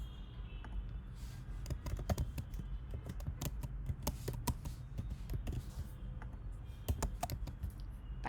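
Steady, rapid typing on a computer keyboard while entering Go application code, a continuous run of crisp, close key clicks at an even pace, quiet and alone without any voice.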